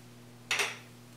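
Oysters being gently folded through stuffing in a pan, a single short soft scrape and clatter of a utensil lasting about a quarter second against a steady low hum, with no talking.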